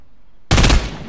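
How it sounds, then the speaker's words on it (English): A sudden loud burst of gunfire or an explosion in a Fortnite Chapter 2 match cuts in after silence, a dense crackling blast that fades within half a second. "and I hear explosions"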